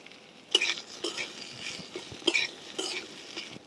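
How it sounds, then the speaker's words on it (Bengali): Two medium boiled potatoes being mashed by hand into a pan of frying peas: soft squishing presses and light stirring scrapes in an uneven rhythm over a faint sizzle, close up and fairly quiet. "এবার এখানে আমি 2টো মিডিয়াম সাইজের আলু আগে থেকে সিদ্ধ করে রেখেছিলাম, এইভাবে হাত দিয়ে ম্যাশ করে দিয়ে দেবো"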